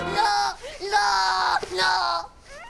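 A cartoon child yells in panic, two long loud cries broken by a short gap and followed by a brief trailing wail.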